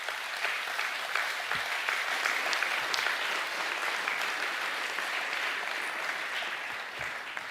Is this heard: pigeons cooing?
no